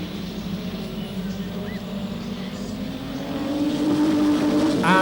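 Eurocars racing cars at a Hednesford race in 1994, engines droning steadily at a distance and swelling louder toward the end as the cars pass nearer.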